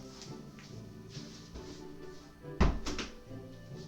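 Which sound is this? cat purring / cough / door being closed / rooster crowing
door being closed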